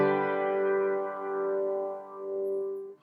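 Piano chords from the left-hand part of a tutorial, a sustained, softly ringing chord that slowly decays over about three seconds and is then cut off, heard alone.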